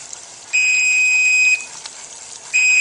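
A kitchen timer beeps while marshmallow syrup cooks on the stove: two loud, steady electronic tones, the first lasting about a second and the second starting near the end, over faint kitchen background.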